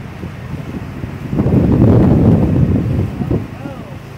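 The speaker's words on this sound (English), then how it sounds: "there's like a blizzard out front. Really? Yeah, you can't see the mountain. And the wind's coming in." Blizzard wind gusting outside a treehouse under construction, heard as a steady low roar that swells loudly in the middle and then eases, with people talking over it.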